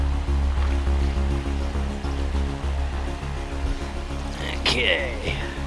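Steady rushing water at a river crossing on a hike to hot springs, a continuous broadband wash close by, with a brief higher splash or squeak near the end.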